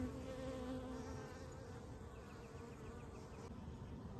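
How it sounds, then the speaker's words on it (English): Honeybees at a Texas hive buzz in a dense, steady hum as many fly back in during a total solar eclipse, a soft, continuous drone of countless wings close by. "When I look into the air, you can see all the bees coming in."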